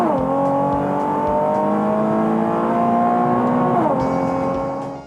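A Nissan 370Z with a naturally aspirated VQ37VHR V6 revs hard, its tone climbing steadily through the range, then dropping briefly at a shift and climbing again, loud and close.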